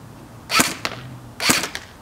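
A Tokyo Marui MP5SD6 airsoft gun fires two sharp semi-auto shots about a second apart, each followed by a faint click, close by.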